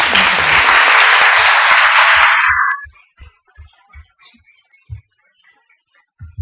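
Audience applause at a round-table session of a national congress on women and sport: dense, steady clapping for about two and a half seconds that cuts off abruptly, followed by a few scattered soft knocks and shuffles in a quiet room.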